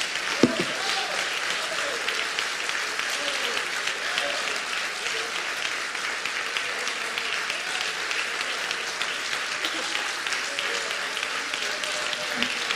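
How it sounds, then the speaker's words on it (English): A church congregation at a Sunday service gives a long, thunderous round of applause, dense sustained clapping filling the room at an even level from start to finish. "round of applause"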